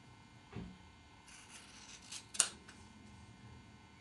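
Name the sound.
scissors cutting fabric along freezer paper edges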